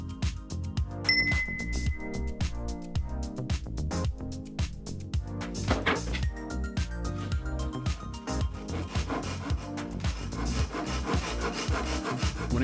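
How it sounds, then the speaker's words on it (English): A pull saw trims wooden splines flush on a mitered joint, a quick run of rasping strokes in steady rhythm, close and fairly loud with no talking. "When it comes to trimming the splines, my preferred method is the pull saw."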